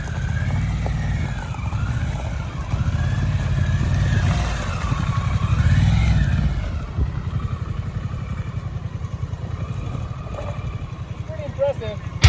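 A Harley motorcycle circling tightly at low speed, its rumbling engine note swelling and fading as it loops, with wind noise over the top.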